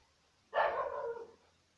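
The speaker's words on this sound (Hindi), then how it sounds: "आज कुछ ज्यादा ही भौंक रहे हैं कुत्ते" A single drawn-out dog bark, moderately close, sounds against near silence, with nobody talking.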